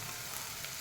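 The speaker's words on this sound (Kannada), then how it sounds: "ಇದು ಟೊಮೆಟೊ ಮತ್ತು ಈರುಳ್ಳಿ ಬೇಗ ಫ್ರೈ ಆಗಲಿಕ್ಕೆ ಉಪ್ಪು ಹಾಕುವ" Tomatoes and onions fry in a pan with salt and ginger garlic paste, a soft continuous sizzle heard briefly and fairly faint.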